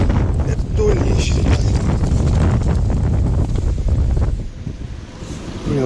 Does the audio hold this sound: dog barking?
no